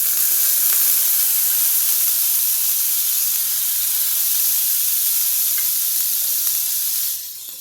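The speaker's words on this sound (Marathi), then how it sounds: "आणि आपण दुसरा डोसा याच्यावर टाकूया टेम्परेचर आपल्याला कमी करून घ्यायचं आहे" Dosa batter sizzles on a hot pan in a Karnataka-style home kitchen, a steady, close, bright hiss that holds evenly and then eases off near the end, with no talking.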